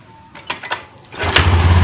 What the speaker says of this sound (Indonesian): Tapi motor dengkol masih nyala.